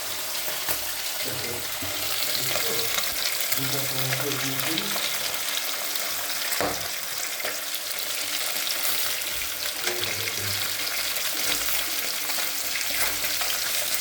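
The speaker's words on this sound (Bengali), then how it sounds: "মাছগুলো ভাজা হোক" Tengra fish fry in oil with a steady, dense crackle and sizzle, while brief bits of a voice come and go in the background.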